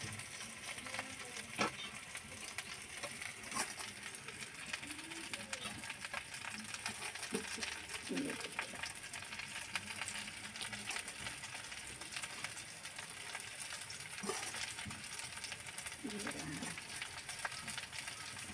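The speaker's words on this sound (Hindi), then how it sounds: "अब हम इसमें आलू डाल देते हैं इस तरह से" Potatoes fry with jackfruit in a pan over a hot stove, a quiet, continuous sizzle with occasional soft scrapes and clinks from stirring throughout.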